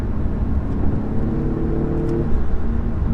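A 2-litre car engine drones steadily at speed from inside the cabin, a loud low rumble with faint rising and falling revs and road noise, no voices.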